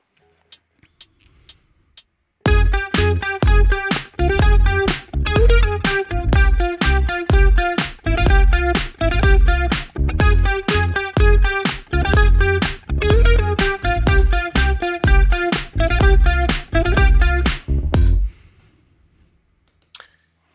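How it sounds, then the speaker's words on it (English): A clean electric guitar line played through a Kemper Profiler: a few muted picks, then steady rhythmic plucked chords and notes with a bright, even tone, stopping abruptly near the end. "Another simple guitar line, and another simple clean sound."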